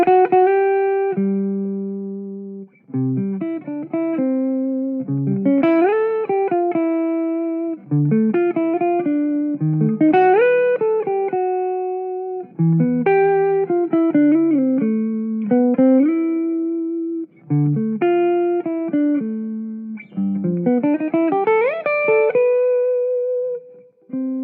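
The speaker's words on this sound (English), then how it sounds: "now we're going to hear the ES335 in combination with a Super Reverb model for some very pretty clean" A clean Gibson ES-335 electric guitar through a Super Reverb amp model plays a melodic passage of chords and single notes, each ringing out with a lush reverb tail.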